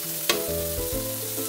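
Cooking oil sizzles in a pan while pancit bihon is fried outdoors on a farm, a steady close frying hiss with a sharp clatter near the start and low tonal hum underneath.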